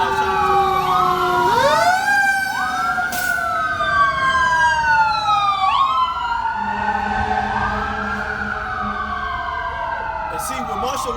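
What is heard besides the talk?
sirens passing outside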